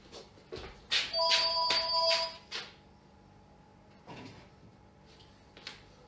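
A landline telephone rings in a home kitchen during a live cooking session making cheese croquettes and onion rings, a bright repeating electronic double ring with brief pauses, loud in the room before stopping.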